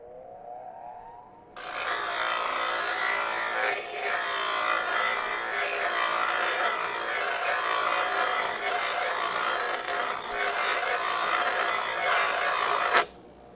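An old bench grinder working on the rocker panel of a Dodge Charger, a loud, steady high-pitched whine that starts abruptly, holds for about eleven seconds with slight wavering, and cuts off suddenly.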